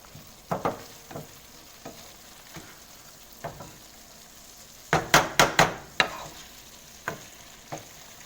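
Beef pie filling for Jamaican beef pies is stirred in a hot pan, a spoon scraping in scattered strokes over a soft sizzle, with a quick cluster of sharper clatters midway.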